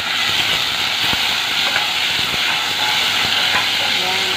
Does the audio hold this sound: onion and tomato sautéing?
yes